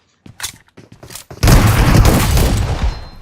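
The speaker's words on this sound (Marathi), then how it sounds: "ए प्रफुल्ला 2 गोळ्या तोंडावर पडल्या." Video game gunfire, a few quiet sharp shots and clicks followed by a loud, dense burst of sustained firing with rumbling booms that fades slightly toward the end.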